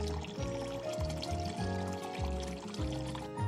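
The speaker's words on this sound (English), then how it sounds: "Sparkling water will now be dispensed." Sparkling water pours steadily from a Zip HydroTap faucet in a continuous gurgling stream, with rhythmic bubbling pulses roughly every half second, close and moderately loud.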